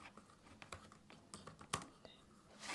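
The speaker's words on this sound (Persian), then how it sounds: "خب حالا بریم تایپش کنیم." Keys clatter on a computer keyboard in quiet, irregular bursts of soft clicks and taps, close and fairly faint.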